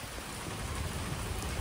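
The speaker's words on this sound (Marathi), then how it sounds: "जस्ट भिजत पाऊस तुम्हाला दिसत असेल. पाऊस आलाय जो." Heavy rain pours steadily at a temple, a dense, continuous wash of drops with no voices, holding at an even loudness for the whole short stretch.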